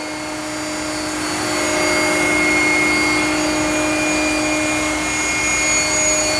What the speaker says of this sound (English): he can fire up that spindle as well. That's for ID grinding.